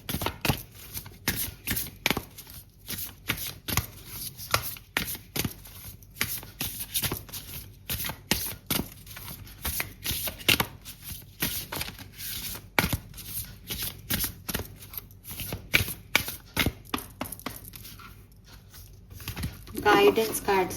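Tarot guidance cards being shuffled in rapid, repeated riffling bursts, close and crisp throughout, with someone talking over them.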